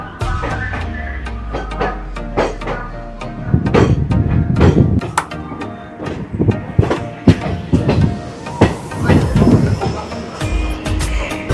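A Digha special train pulling out of Kolkata station rumbles with repeated loud clunks and thuds from the rail cars, a continuous rolling noise heard up close from on board.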